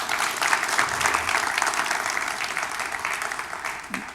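An audience applauds a pastor at a talk show event on HIV and AIDS, a steady dense wash of clapping filling the room throughout at an even level.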